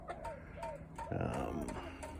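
A hen clucks nearby in a garden in short bursts, with a brief louder squawk partway through, over quiet barnyard background.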